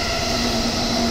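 A commuter rapid train rumbles past close by at JR Maihama station with a steady, loud roar and a faint high whine, no voices.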